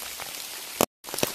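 Rain falling on a forest trail in the Selva de Irati, a dense steady hiss of drops with a few louder close splashes, briefly cut off by a moment of silence.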